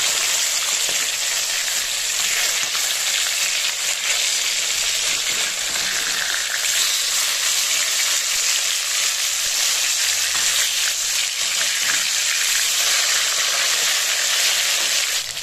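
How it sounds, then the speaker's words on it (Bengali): Katla fish pieces frying in mustard oil after being turned over, a steady, close, even sizzle and hiss that carries on alone throughout. "আমি উল্টে ও অপর দিকটা ভেজে নেব।"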